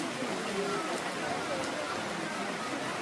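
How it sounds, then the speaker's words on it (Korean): Steady rain falling outdoors, a constant, even hiss of drops heard throughout, moderately loud and unbroken. "이렇게 비가 추적추적 내리는"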